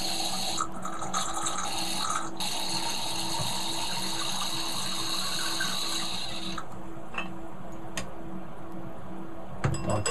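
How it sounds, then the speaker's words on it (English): Wine pours through a VinO2 aerator in a steady liquid stream with a continuous airy hiss and a high whistling tone, fairly loud and close, easing off partway through. "You pour the wine through this device."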